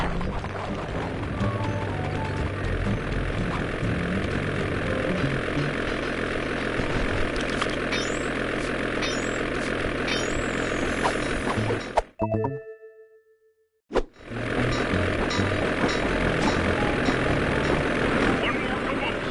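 The ice plane in the video game Sly 2 drones with a loud, continuous propeller-engine roar that cuts out briefly to near silence, then resumes at full strength, with voices talking over parts of it.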